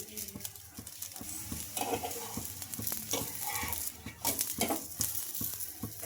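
Carrot masala dosa sizzling in oil on a hot pan, a steady loud frying hiss with light scraping and stirring clicks from a spatula, no voices.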